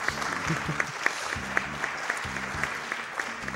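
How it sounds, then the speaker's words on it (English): Scattered clapping during a Chrono Trigger gaming stream, a few hands clapping over steady background music with gentle beats, moderately quiet and close. "I do always appreciate clapping for RNG."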